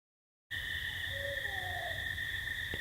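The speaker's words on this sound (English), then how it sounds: "You hear the owl sound?" An owl hoots at night in a forest, a faint distant call over steady insect chirping and low background hum, with no voices.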